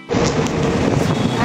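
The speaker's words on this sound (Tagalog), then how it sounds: "Ang lakas ng hangin dito sa Shangri-La" Strong wind buffets the microphone outdoors at Shangri-La, a steady loud roar filling the whole clip after a brief quiet start.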